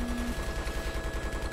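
A helicopter in Battlefield 3 fires a missile at a locked target: a rapid run of low, evenly spaced thumping bursts under a steady engine drone, loud and continuous across the whole moment.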